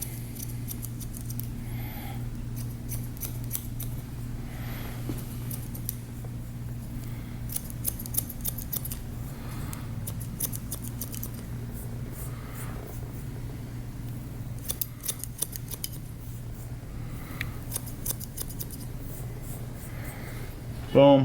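Scissors snip hair during a textured haircut, faint rapid clicks scattered through the clip over a steady low hum, with someone talking now and then.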